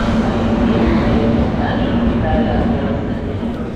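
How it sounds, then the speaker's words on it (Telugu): A special train bound from Warangal to Prayagraj for the Kumbh Mela rolls into a station with a steady, loud rumble and wheel noise that continues without a break. "వచ్చేసింది మన వరంగల్ నుండి ప్రయాగ్రాజ్ పోతున్న ట్రైన్"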